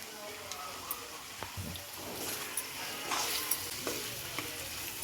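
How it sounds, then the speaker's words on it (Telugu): Spiced French fries are stirred in a pan over a low flame, with soft sizzling under scraping, clacking stir strokes at an irregular pace, and a voice talks quietly alongside. "మనమైతే మసాలాలు వేసుకున్నాం కదా, కలిపిస్తున్నాం ఒకసారి"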